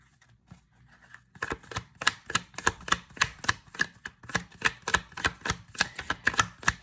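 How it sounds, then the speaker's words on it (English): Playing cards are shuffled close by, starting with a few soft clicks and then a quick, steady run of crisp snaps and riffles, with no voices. "Somebody that said that they didn't like the sound of card shuffling"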